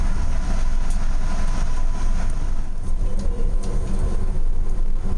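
Steady rumble of a Tokyo city train in motion, with a constant low roar and faint rail clicks and squeals, continuous throughout with no voices.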